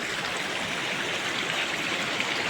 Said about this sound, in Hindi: बीच नदी में आ गया हूँ गाइस, पत्थर है बीच में।